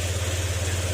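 A Honda Click 125 scooter engine idles after a top overhaul with a new block, piston rings, valve guides and gasket, giving a steady, even low hum with a constant pulse, close by and with no talk over it.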